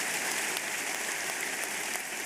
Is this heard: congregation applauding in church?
yes